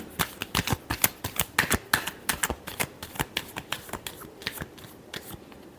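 Tarot cards being shuffled by hand in a rapid series of crisp riffling flicks, close and steady, gradually easing toward the end.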